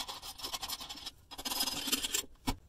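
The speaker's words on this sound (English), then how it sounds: "What I need to do is I need to grind with a Dremel." A Dremel grinds out a bolt hole in a metal plate with short, raspy bursts of scraping and a brief pause between them, close up and moderately loud.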